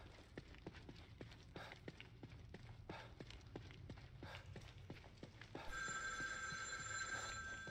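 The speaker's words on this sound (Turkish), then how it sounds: "Telefon çalıyor ama açalım mı?" A telephone starts ringing with a bright electronic trill partway through a scene in the horror game The Evil Within 2. Quiet footsteps tread steadily beforehand, and the ringing continues to the end.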